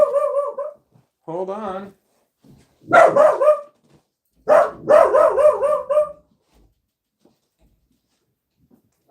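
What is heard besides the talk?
dog barking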